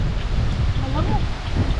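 Strong outdoor wind buffets the microphone at a rural vegetable garden, a steady low rumble filling the short stretch with faint fluttering tones above it.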